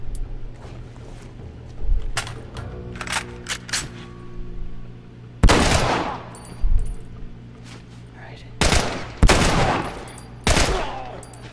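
Assault rifle fire in The Last of Us rings out in sharp, loud bursts and single shots, several volleys spread across the span with quieter gaps between them.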